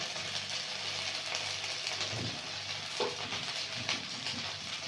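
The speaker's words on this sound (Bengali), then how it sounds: "স্বাদ মতন লবণ দিয়ে মশলাটা কষিয়ে নেবে" Spice paste of turmeric, chili and cumin powder, with salt, stir-frying in a pan in a village kitchen, giving a steady, continuous sizzle with scraping stirs and a few brief knocks.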